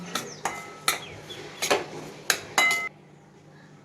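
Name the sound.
semolina being roasted in ghee in a pan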